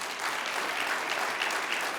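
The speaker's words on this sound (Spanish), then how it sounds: "¿Puedes darle un aplauso de alabanza a Él?" Congregation applause during a church sermon, a dense, even wash of many hands clapping at once, fairly close and sustained without a break or any speech.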